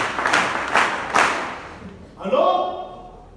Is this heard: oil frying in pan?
no